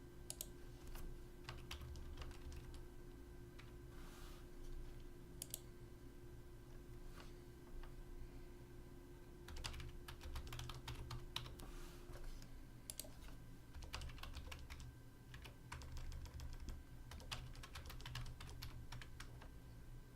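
A username and password are typed on a computer keyboard, with quiet, quick key clicks coming in short irregular runs and pauses over a steady low hum, close and faint, with no voices.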